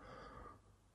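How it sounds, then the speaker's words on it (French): A single soft, breathy yawn close to the microphone, very faint and brief, fading out quickly with no other sound. "Excusez-moi, je baille."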